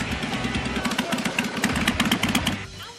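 A man rides a motorcycle, its engine droning steadily with a rough, pulsing mid-range note that holds for most of the stretch, then drops away abruptly near the end.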